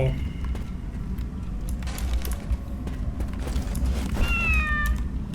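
A cat meows loudly near the end, a rising, drawn-out call heard over the background noise and chatter of an online shooter game session.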